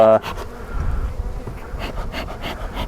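Dense angry buzzing of many wild-caught bees swarming right against the camera microphone, with loud bumps and taps as they strike it.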